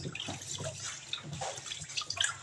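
Balut eggs being scrubbed with steel wool under running water, a continuous splashing, trickling wash with small scraping bursts, close by and moderately loud, no voices.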